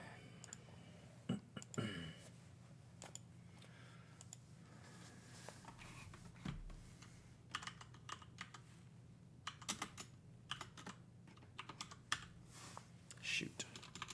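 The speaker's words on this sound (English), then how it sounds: "You don't need to see me type that in." Typing on a computer keyboard in a quiet room, with irregular bursts of light clicking keystrokes and short pauses, plus a couple of louder knocks early on.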